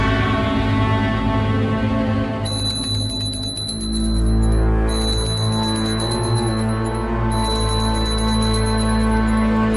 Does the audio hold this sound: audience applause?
no